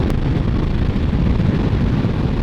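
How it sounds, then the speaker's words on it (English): Heavy wind buffets the microphone while riding a 2022 Suzuki Hayabusa motorcycle, a loud, steady low roar with constant rumbling gusts and no voices. "it's windy"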